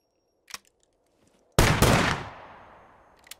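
An under-over double-barrel shotgun fires in the video game SCUM, one loud booming blast that rolls off into a long decaying tail, with a small click just before it.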